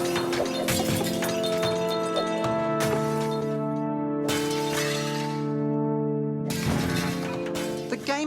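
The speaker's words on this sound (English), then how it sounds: "You merely fly through a glass world, smashing it with ball bearings." Glass panes shattering over and over in the video game Smash Hit as ball bearings are fired through a glass world, loud bright crashes repeating against a steady sustained musical backdrop.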